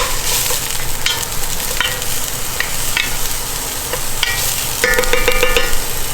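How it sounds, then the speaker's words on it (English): Steady, loud sizzling and crackling of green onions frying in a hot pot, with occasional stirring scrapes and no talking. "we're gonna throw in some of those green onions. Yes, love that sound."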